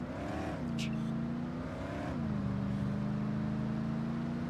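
A car engine hums and shifts pitch as the vehicle drives and accelerates in The Godfather video game, a steady close motor drone with two gear-change dips, no talk over it.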